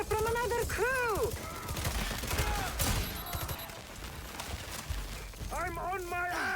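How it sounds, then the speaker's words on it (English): Bursts of gunfire crackle in the online shooter Hyenas, with rapid overlapping shots and booming impacts mixed with tonal game effects and voices. "I'm under fire from another crew!"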